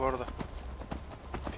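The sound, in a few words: horse hooves galloping in video game Skyrim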